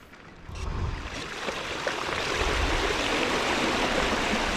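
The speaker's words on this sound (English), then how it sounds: "The water's actually running quite quickly." Fast-running water pours over a submerged path, a dense, steady rushing close by that swells after the first half-second and holds loud throughout.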